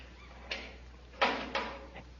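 A ship's door handle is tried, giving a few quiet, separate metallic clicks and rattles, with one sharper latch clunk in the middle, alone against a faint hum.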